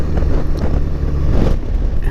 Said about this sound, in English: I don't know if you can hear the wind. It's pretty windy right now.